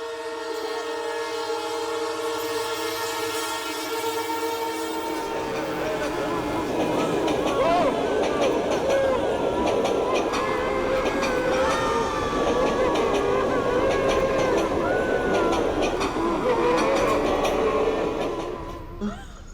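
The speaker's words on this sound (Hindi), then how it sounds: "ये ट्रेन रुकी ही नहीं" A train runs past without stopping, a long horn blast at first giving way to a steady, loud rumble and rattle of wagons that holds for most of the stretch before easing at the end.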